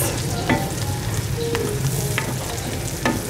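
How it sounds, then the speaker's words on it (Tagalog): Bacon bits are stirred into food frying in a pan alongside pork cubes, with a continuous sizzle and soft scraping of the spoon plus a few light clinks, close up with no speech. "Halo na natin yung bacon bits."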